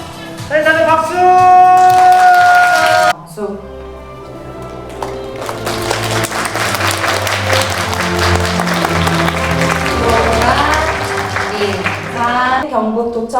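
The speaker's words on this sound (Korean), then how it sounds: "다들 박수" Applause at a kindergarten graduation ceremony in a provincial government office daycare in Gyeongbuk, Korea: a broad wash of clapping that rises after a sung or musical passage, with tones and voices mixed in over the crowd.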